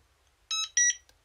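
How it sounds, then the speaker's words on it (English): Two short, high electronic beeps in quick succession, clear and close against near silence, from a JAZZ assistive joystick signalling that diagonal movement is switched on. "You get two beeps to show that diagonals are on."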